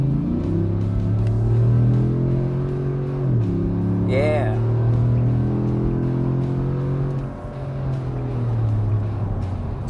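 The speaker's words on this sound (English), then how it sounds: "Our SLP exhaust is installed. As expected, it looks and sounds great." Chevy Silverado 1500 with a 6.2L V8 and SLP 3-inch cat-back exhaust with 4-inch tip, rumbling low and steady, then revved up and settling back to a deep idle burble; a voice briefly speaks.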